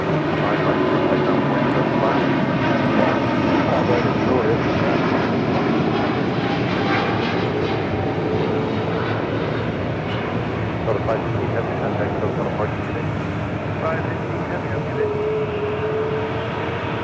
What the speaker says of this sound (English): That was the Delta flight heading to Atlanta, Georgia, that A350.